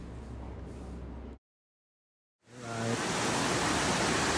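Daranak Falls roars as a loud, steady broadband rush close by, cutting out to silence for about a second before returning even stronger.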